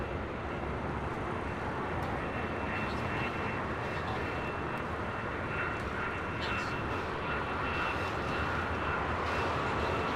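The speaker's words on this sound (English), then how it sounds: "It's Philippine Airlines coming in from Manila, 777 at 300 ER." Philippine Airlines Boeing 777-300ER arriving at LAX from Manila, a continuous moderate jet engine rumble and whine holding steady throughout, with no talk.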